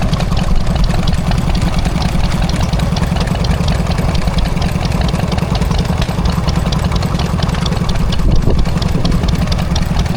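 A Lister D stationary engine, once used to power a milking setup, runs steadily at a country show, its loud, even chugging beat continuing without pause from close by.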